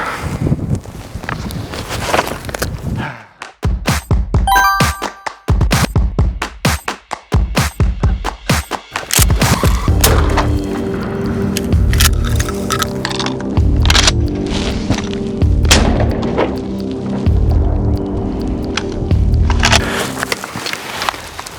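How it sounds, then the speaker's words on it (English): Rapid gunfire, shotgun blasts of double-aught buckshot and a long string of 9mm rounds fired at a BulletSafe 3A+ vest. Loud, close cracking shots come in irregular bursts and then a fast, steady volley that runs on without a break. "it took two rounds of double-aught buck to the back from 10 feet, 25 rounds of 9"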